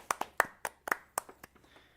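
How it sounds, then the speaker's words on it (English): A short round of applause from just a few people, about ten sharp, uneven hand claps over two seconds, close and fairly quiet, tapering off at the end. "Can we at least give a round of applause for Brett real quick?"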